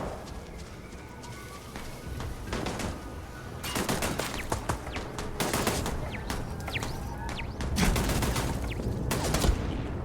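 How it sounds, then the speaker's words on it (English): Gunfire in the Starfield video game, with rapid clusters of sharp shots going off in bursts, growing busier midway, over background game ambience with no talk. "Who's shooting at me?"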